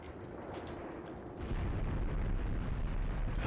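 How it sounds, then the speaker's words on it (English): Artillery shells landing in the video game Graviteam Tactics, a continuous low rumbling roar of distant impacts that swells louder partway through. "Still got artillery coming in up there."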